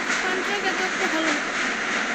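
A game train from a 3D Indian driving game runs with a steady, loud mechanical rumble and rolling hum, a voice commenting over it.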